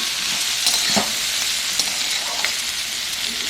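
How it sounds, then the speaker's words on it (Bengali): Potato pieces fry in a pan with an even, close sizzling hiss, a few soft clinks and scrapes of a spoon turning them; nobody speaks. "এরপর দিয়ে দেবো আলুর টুকরোগুলো, ভেজে নেব।"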